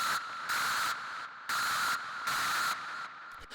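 A screeching industrial techno synth made from white noise through a resonant bandpass filter, hitting in loud, sustained bursts of roughly half a second in a steady on-off pattern, with a sharp ringing peak over hiss and no voices.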